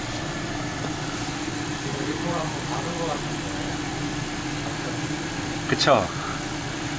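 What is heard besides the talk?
Renault Captur engine idling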